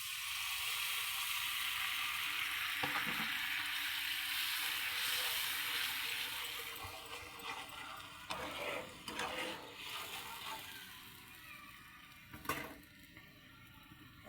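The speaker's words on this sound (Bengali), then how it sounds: "গরম জল দিয়ে দিচ্ছি" Hot water poured into a hot cooking pan sizzles and hisses loudly at first, then settles into softer bubbling with a few scattered clatters.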